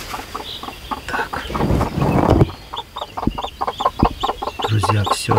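A hen clucks in repeated short, rhythmic bursts close by, with ten Grodno chicks cheeping softly around her and a brief rustle midway.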